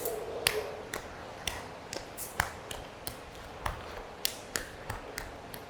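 Repeated hand taps as one palm slaps the back of the other hand during a high-plank timed tapping test, sharp close clicks in a steady rhythm of roughly two per second, about a dozen over the stretch, over faint background noise.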